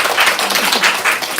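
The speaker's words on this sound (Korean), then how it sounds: "감사의 박수." Steady applause from a church congregation at a Sunday service fills the whole moment, a dense wash of clapping with no pauses.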